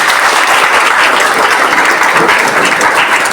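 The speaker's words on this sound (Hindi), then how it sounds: "ताली दिके मारो।" An audience at a Christmas gathering claps hands together, a loud, dense, continuous burst of applause filling the whole moment without pause.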